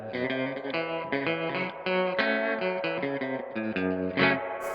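Electric guitar fitted with flatwound strings, played through tremolo and reverb, sounding a quick sequence of chords and notes with a shimmering, pulsing sustain, close and alone.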